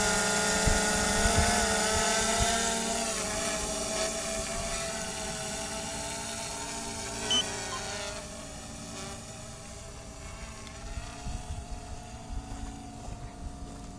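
An Autel X-Star quadcopter drone fitted with landing gear extensions climbs to about 300 feet, its rotors a steady, droning whine with some wind buffeting, easing slightly quieter toward the end.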